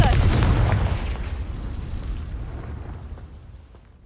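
The Confringo fire spell in the game Hogwarts Legacy bursts with a loud, deep explosive boom that rolls and decays over several seconds.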